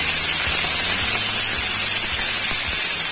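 A few chopped green onions frying in a hot pan, a loud continuous sizzling hiss up close, with faint soft clinks underneath and no talking.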